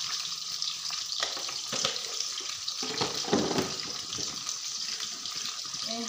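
Fish frying in a pan of hot oil, a steady, dense sizzle that stays loud throughout, with occasional crackles and pops rising above it.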